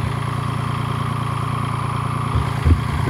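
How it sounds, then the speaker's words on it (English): A 25-horsepower Kubota tractor engine idles steadily nearby with a low, even rumble, then a brief louder bump in revs near the end; no voices are heard. "So I'm gonna use my tractor, my Kubota tractor, which has been a really good tractor out here on the place."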